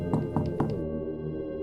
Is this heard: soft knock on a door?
yes